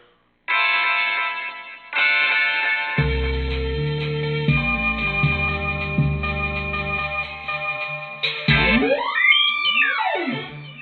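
A bright synthesized tone from a synthesizer patch in Reason 9 swells with a short strum-like attack, layered over low droning notes, ending in a swirling, echoing sweep.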